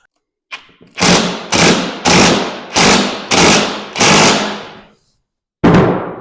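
A hammer strikes a metal axle shaft on a 1970s PUG UTV hard seven times in a steady rhythm, each blow loud, close and ringing briefly, with a short pause before the last hit.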